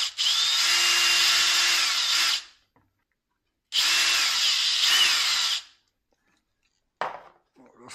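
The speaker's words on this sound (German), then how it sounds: "Müssen wir nochmal nachbohren." A power drill bores a hole while auxiliary lights are being mounted: two sustained, loud whining bursts of a couple of seconds each, separated by silence, then a brief final blip.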